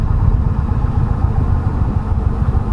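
A 2019 Indian Chieftain Limited V-twin motorcycle idles steadily with the clutch pulled in, a loud, close, continuous low rumble with an even throb and no talking.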